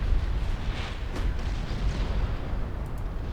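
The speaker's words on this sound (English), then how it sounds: "There we're getting the torpedo hits on Albemarle." Torpedo hits explode against the ship Albemarle in Ultimate Admiral Dreadnoughts, a 1925 naval battle game, as a low rumbling roll of blasts with a heavier burst near the start that fades into a dull, sustained rumble.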